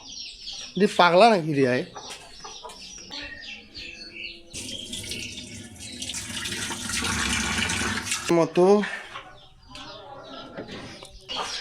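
Chickens, including a large hen just uncovered, cluck and squawk in short, shrill bursts near and far, while people talk loudly over them and a trickle of water runs in the background.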